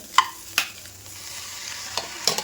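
Cooked green gram tipped into a pan of frying prawn and egg palya and stirred in, giving a few sharp scraping clatters over a low, steady sizzle, close and fairly loud, with no talking.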